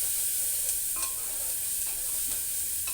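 A spiced potato and soybean curry with salt and turmeric is stirred in a pot over the heat: a constant bright sizzle with a few soft spoon scrapes, close and steady without talk.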